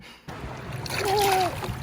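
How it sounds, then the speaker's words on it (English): A wave splashing over someone at the water's edge, a sudden loud wash of water that swells and then settles, with a brief voiced exclamation over it. "That wave splashed you."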